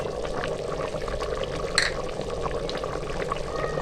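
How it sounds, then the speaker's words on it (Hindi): Cumin goes into a cooking pot for a black chickpea shorba, giving a soft pouring rustle followed by a low simmering bubble, with one brief sharp clatter midway. "अब हम इसमें जीरा शामिल करेंगे।"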